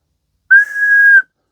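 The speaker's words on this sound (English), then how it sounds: "It certainly looks like a whistle." A small ceramic whistle is blown once, giving a single clear, steady tone that lasts under a second, close and loud, with silence around it.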